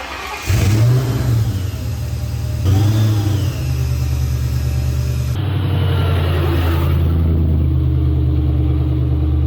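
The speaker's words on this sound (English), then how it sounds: "I'm going to go ahead and start up the car" A 2003 Ford Mustang Cobra engine cranks and catches, then revs up and settles into a steady, loud running hum close by, during a coolant flush.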